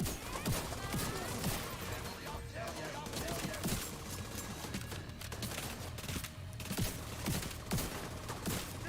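A minigun fires in the shooter game The Division 2, with rapid bursts of gunfire and sharp impacts repeating over a dense, noisy battle bed at moderate loudness.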